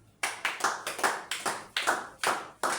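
A church congregation claps for Jesus at the close of a service, a steady run of a dozen or so brisk, fairly even hand claps from a nearby group, with no talking over them.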